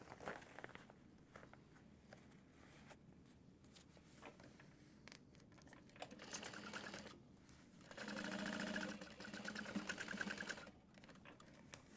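A sewing machine back stitches the seams of a fabric bag in short runs of rapid mechanical whirring and needle clatter, with a longer steady burst near the end and soft handling noises between runs.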